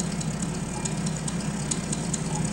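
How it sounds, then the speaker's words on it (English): Aircraft engines of a Spirit of St. Louis replica idling on the ground after landing, a loud continuous low drone with steady rumble and no speech. "Let's cut the engines here."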